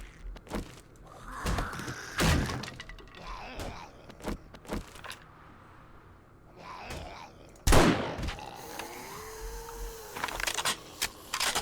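Rifle shots fired at zombies in the game 7 Days to Die, Alpha 19, inside a cleared building: a few sharp, loud cracks at irregular intervals with thuds and groaning between them.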